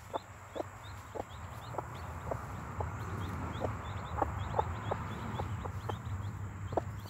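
Hen clucking softly and repeatedly among newborn chicks being fed, with scattered high peeps from the chicks over a low steady background hum.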